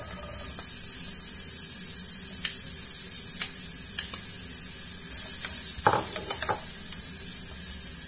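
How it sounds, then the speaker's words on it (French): Chopped onions sizzle in two tablespoons of oil in a frying pan, a steady close hiss with a few scraping stirs partway through and no talking. "Dans une poêle, je vais mettre 2 cuillères à soupe d'huile et je vais mettre mes oignons."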